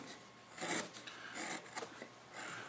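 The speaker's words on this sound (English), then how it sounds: "I'll just use that big gouge of mine" A big gouge is carving a wooden pitcher, giving faint, rasping scrapes in short strokes at close range with no talk.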